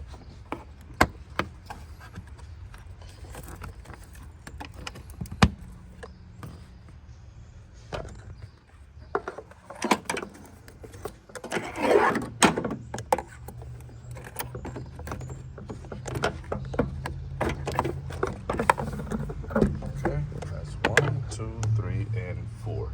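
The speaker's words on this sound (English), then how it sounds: "I'll go ahead and put your clips back on" Air box cover clips on a 2008 Mazda 3 being snapped back into place, scattered close plastic clicks and knocks amid rubbing and handling, with someone talking over parts of it.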